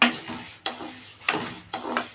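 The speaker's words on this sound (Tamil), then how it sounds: "சிம்லேயே வச்சு நல்லா வறுக்கணும்ப்பா. நல்லா உளுந்து வாசம் வர வரைக்கும் வறுக்கணும்." Black urad dal is dry-roasted on low heat in a pan for idli and dosa podi, with four distinct scraping stirs, each a close rattling swish of lentils against metal that fades between strokes.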